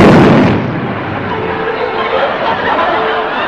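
An explosion sound effect goes off after a match is lit on a comedy show set in Alaska. It starts with a loud, rumbling blast that quickly fades into a lingering noisy roar, with a voice faintly underneath.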